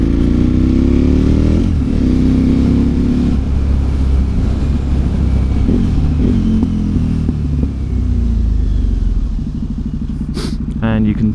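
A motorcycle engine runs loud and close as the bike brakes and rolls to a stop, its rumble settling toward idle, with a rider talking over it throughout.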